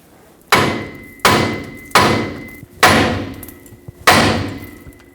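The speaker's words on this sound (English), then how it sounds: "when we hammer the knuckle to break the tie rod stud free" Five heavy metallic hammer blows strike a steering knuckle at a steady rhythm to free a tie rod stud on a 2011-2016 Ford F-350, each a sharp, loud impact with a ringing tail, spaced about a second apart.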